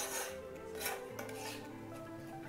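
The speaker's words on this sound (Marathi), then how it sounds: "सोडा टाकल्यानंतर हे बेसन आपल्याला अशा पद्धतीने मिक्स करून घ्यायचं आहे।" Gram flour batter with soda being stirred in a bowl, a steady scraping and rubbing of the utensil against the bowl with soft clinks, close and fairly quiet, no voices.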